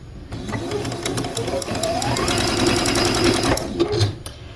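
Sewing machine chain piecing quilt fabric into a four-patch block, a close, fast needle rattle that starts abruptly, runs steadily for about three seconds, then stops with a few soft handling knocks.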